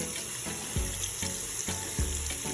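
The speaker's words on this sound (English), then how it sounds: "You're gonna put on cold water to run it through." Cold tap water runs and splashes through a fish tank filter, a continuous watery hiss with a few gurgling bursts and knocks.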